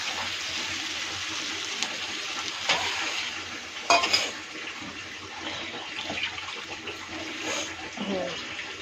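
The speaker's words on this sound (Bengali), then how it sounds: "এখন এর মধ্যে আমি জল ঢেলে দেব।" Water is poured into a pan of frying egg curry with potatoes and lemon juice, giving a loud hiss and splashing burst partway through over a constant sizzling background, with a few stirring clinks.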